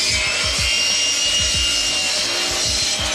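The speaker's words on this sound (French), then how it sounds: "c'est une scie à bois déjà" A hand wood saw cuts back and forth through wood in steady, rasping strokes, close and loud, with a rhythmic push-pull pattern throughout.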